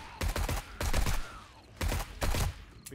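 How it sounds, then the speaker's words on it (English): Burst-fire rifle shooting in the survival game 7 Days to Die, loud close bursts of rapid shots in four distinct groups with short gaps between them, with no talk over it. "because it's only burst shooting"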